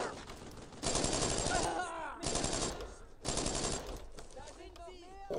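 Rapid bursts of automatic gunfire from the World War II shooter Brothers in Arms: Road to Hill 30 come in three loud sustained volleys, separated by brief pauses with fainter shots and echoes.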